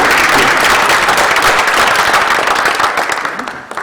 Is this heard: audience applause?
yes